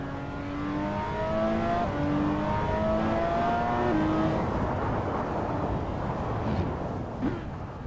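Car engine steadily droning and revving in a driving video game played with a steering wheel on an open road, continuous mid-loud tone with rising and falling pitch throughout, no talk.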